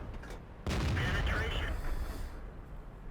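An AMX CDC French premium medium tank fires a shot in World of Tanks, one sudden heavy boom followed by a rumbling tail. A voice can be heard talking faintly.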